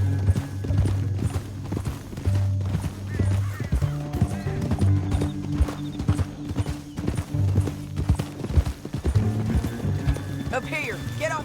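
Rapid clip-clop of horse hooves at a gallop in Red Dead Redemption II, steady and fairly close, with a musical score and occasional voices underneath.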